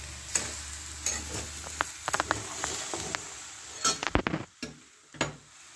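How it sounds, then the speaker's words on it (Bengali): Lentils tipped into a hot pan for Odia dalma, giving a close, steady sizzle with stirring and sharp clinks of a spoon against the metal pan, no voices. "এবার আমি ডালটা দিয়ে দিচ্ছি এর মধ্যে।"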